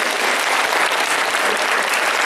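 A large convention crowd at an anime convention awards announcement claps loudly, a thick, continuous roar of applause that stays steady and close for the whole stretch with no speech.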